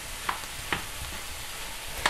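Squash heating in a hot pan before eggs are added, with a steady low sizzle and a few sharp clicks of a utensil against the pan, close and moderately quiet.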